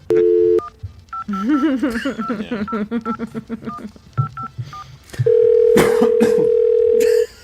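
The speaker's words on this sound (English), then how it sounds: "Let's get Gene Roddenberry on the phone." A telephone is dialed with a quick run of touch-tone beeps, short tones pulsing in rapid succession between a brief tone at the start and a long steady tone near the end, with speech mixed among the tones.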